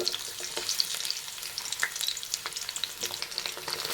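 Garlic, ginger and onion fry in hot refined oil, a steady close sizzle with crackling pops and the occasional clink of a stirring spoon throughout.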